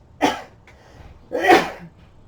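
Two sneezes, close and fairly loud, about a second apart, with quiet room noise in between.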